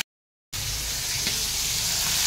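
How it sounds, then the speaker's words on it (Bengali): Prawns fry in plenty of hot oil, a loud continuous sizzle that starts abruptly after a brief silence and holds steady to the end. "তো দেখো এখানে চিংড়ি মাছটা ভেজে নিই।"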